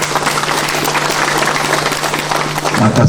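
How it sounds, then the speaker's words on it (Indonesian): Steady applause from a room full of people at the inauguration of a regional library service building, dense clapping that swells slightly near the end. "Tepuk tangan dulu dong."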